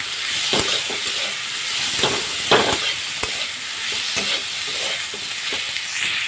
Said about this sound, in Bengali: এবার হালকা করে এটা ফ্রাই করে নেবো।